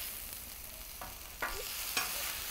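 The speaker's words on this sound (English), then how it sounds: "So let's go ahead and flip it." A burger patty on a Blackstone griddle hisses in a soft, constant sizzle, with a few quick spatula scrapes as it is flipped.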